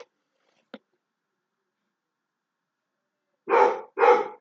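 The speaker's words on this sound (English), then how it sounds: "Ugh, this dog." A dog at home barks twice in quick succession, loud and close, after near silence broken only by a couple of faint clicks.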